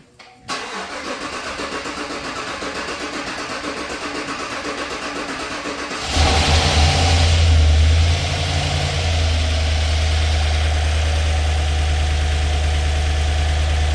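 A GM L83 V8 fires up for the first time after a cam swap and DOD delete in a 4th gen GM truck, the starter cranking briefly before the engine catches with a loud rev that settles into a steady rumbling idle.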